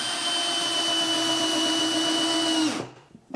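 A Metabo 12V cordless drill driver runs steadily while driving a screw down near the floor, a loud, close whine with a steady tone, ending abruptly and leaving a few faint knocks.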